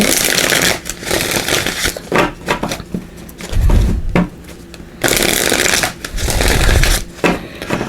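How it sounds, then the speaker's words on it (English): Oracle cards being shuffled in repeated bursts of papery riffling and flicking, close and fairly loud, with brief pauses between rounds. "So give these a quick shuffle."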